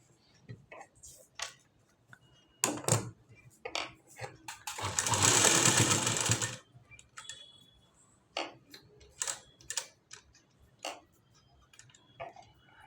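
A sewing machine stitches hooks and buttonholes onto a blouse in short bursts of rapid clattering, with one longer whirring run in the middle and brief pauses between.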